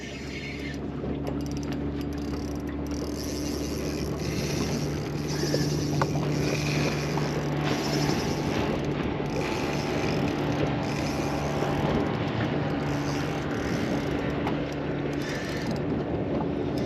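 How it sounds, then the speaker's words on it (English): A motorboat roars past on the water near a fishing spot, a steady loud engine drone with wind buffeting the microphone, running continuously with no voices. "Boat going ripping past me."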